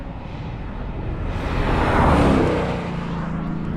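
A Ford Mustang GT500 passes on a race track, its whine swelling loud as it nears and then fading away in one continuous pass with no talking.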